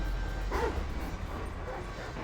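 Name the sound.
dog barking in video game GTA V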